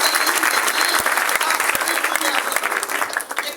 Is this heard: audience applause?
yes